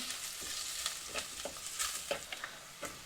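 Chopped garlic sautéing in a pan for Sri Lankan prawn curry makes a soft continuous sizzle, broken by light, irregular stirring scrapes at close range and no voices.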